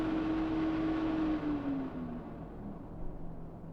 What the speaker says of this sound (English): CPU fans cool down.